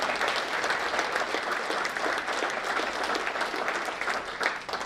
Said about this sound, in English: I want you guys to give me a round of applause.